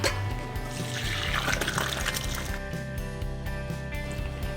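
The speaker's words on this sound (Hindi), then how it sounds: "अब इसका पानी निकाल देंगे।" Water drained off boiled kakora (spine gourd), a continuous trickling and splashing pour, close and fairly loud, over a steady low background hum.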